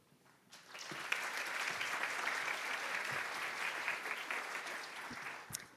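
A crowd claps steadily for several seconds, the applause swelling quickly and then fading toward the end.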